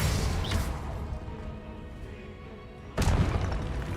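In Hogwarts Legacy, the Confringo blasting spell goes off: a loud, sudden boom bursts out after a rumbling stretch of game noise.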